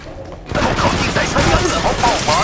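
Heavy gunfire in a shooting video game starts abruptly after a quiet half second, then continues as loud, dense, overlapping bursts with a voice talking over it.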